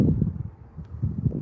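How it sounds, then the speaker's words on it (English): Gusty, cold wind in South Dakota buffets the microphone in low, rumbling bursts that rise, dip briefly, then surge again. "It's a little bit windy today"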